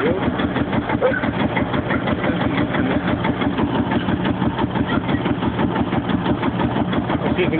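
A big Field Marshall single-cylinder tractor engine runs steadily close by, its heavy, regular low thumping pulsing throughout, with people talking faintly underneath.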